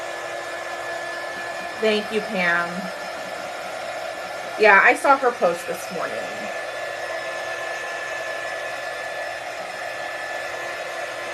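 A hair dryer blowing to dry paint on a sunflower painting runs as a steady close whir throughout, while someone talks over it briefly.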